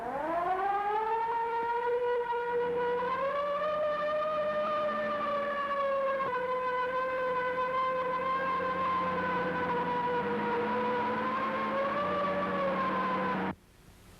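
A police car siren wails, rising and falling in long, sustained tones, loud and close, with a faint engine rumble beneath, then cuts off abruptly, from a 1932 film.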